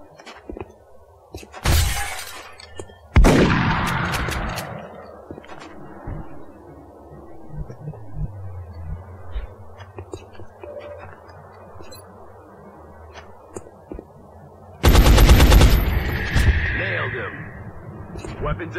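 Gunshots in the XCOM video game: two sharp, loud blasts with shattering debris a few seconds apart, then a later heavy burst, separated by quieter ambient game sound.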